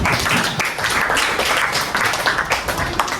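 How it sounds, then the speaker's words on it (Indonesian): Classroom applause for a student named Anin, with dense, steady clapping from many hands filling the whole stretch at a fairly loud, even level. "tepuk tangan untuk Anin."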